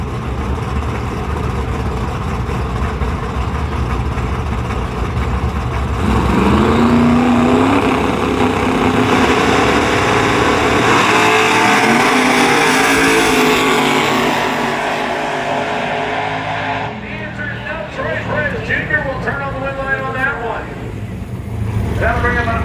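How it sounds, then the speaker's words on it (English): A nitrous-fed Mustang drag car at Bradenton Motorsports Park idles loudly while staging, then roars to full-throttle launch and fades off down the strip, with an announcer talking over the engine throughout. "He'll stage up the nitrous fed Mustang on the right side of the racetrack."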